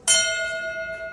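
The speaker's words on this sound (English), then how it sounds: "Bell ringer. Please strike a toll for the following boats." A single bell toll struck for lost submarines at a submarine veterans' memorial ceremony in San Diego rings out sharply, then hums with a clear, sustained metallic tone.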